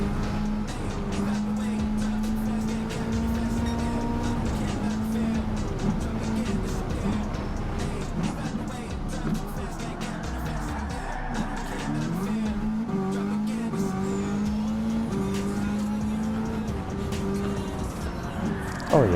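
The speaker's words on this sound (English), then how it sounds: "Oh yeah, just an uphill drift," A slow drift-built truck in a racing game slides uphill, its engine roaring and revving continuously with pitch swinging up and down, loud and close for the whole stretch with no talking.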